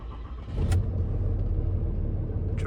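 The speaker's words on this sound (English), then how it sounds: "This is a cold start." Cold start of a 2014 6.7 Cummins diesel truck engine with suspected failing fuel injectors: a deep, loud rumble rises as it catches, then settles into a heavy, steady idle close by.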